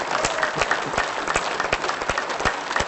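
A group clapping loudly with hands spread wide as an energizing exercise: dense, continuous, fast clapping close by for a few seconds, with no pause.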